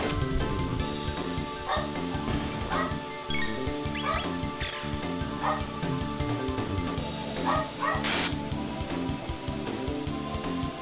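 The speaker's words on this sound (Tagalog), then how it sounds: "Sorry, dinig yung aso dun sa..." A household dog barks and whimpers repeatedly, wanting to come inside, with yips and whines scattered through a steady bed of retro Chrono Trigger game music.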